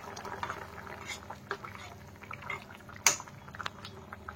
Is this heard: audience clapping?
no